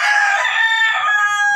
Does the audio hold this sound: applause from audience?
no